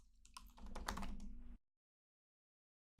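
Rapid clattering keystrokes from typing on a computer keyboard, close and fairly faint, lasting about a second and a half before cutting to silence.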